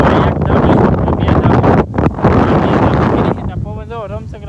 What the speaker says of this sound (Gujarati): વાવાઝોડું ફૂલ આવવા મીડું છે